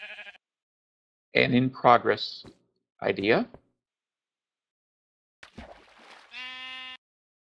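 A sheep in the Minecraft video game gives a single short bleat, clear and alone, right after a person finishes talking over a quiet background.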